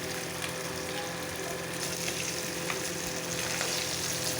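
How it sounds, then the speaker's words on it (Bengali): Fish fries in a pan of oil with a continuous, close sizzle and faint bubbling, steady and moderately quiet, with light stirring noises now and then. "এদিকে মাছটা ভাজা ভাজতে লেগেছি আমি"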